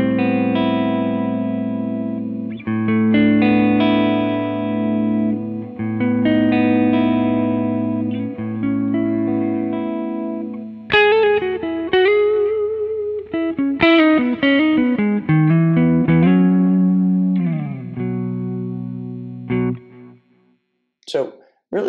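A clean electric guitar through a Quad Cortex amp modeler plays chords and picked notes with light delay and reverb, ringing out steadily before a few sparse final plucks.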